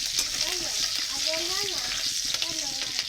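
Chopped chili and garlic sizzle and fry steadily in a pan while being stirred, a bright, continuous hiss broken by soft scrapes, with a voice talking over it.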